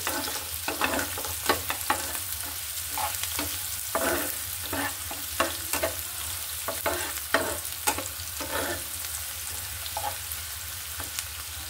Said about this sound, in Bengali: এখানে দিয়ে দিচ্ছি বেশ কিছু পেঁয়াজ কুচি, পরিমাণ মতো আদা কুচি। এটা আমি ভালো করে ভেজে নেব।